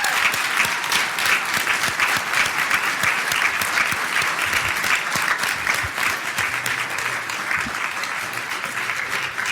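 Audience at a Philadelphia board meeting applauding educators, sustained lively clapping from many people that stays loud for nearly ten seconds with faint voices mixed in.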